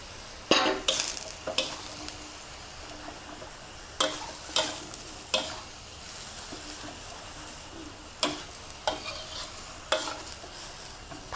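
Rice noodles are stir-fried with pork and soy sauce in a large wok, giving a steady sizzle with several sharp metal spatula scrapes and clanks spaced irregularly across the clip. No one speaks.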